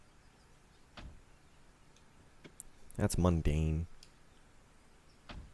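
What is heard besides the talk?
2003 Toyota Celica door in video game Forza Horizon 5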